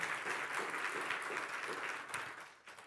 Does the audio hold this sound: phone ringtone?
no